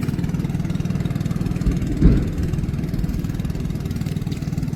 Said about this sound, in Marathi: होंडा इंजिन कशी पलते बघा ती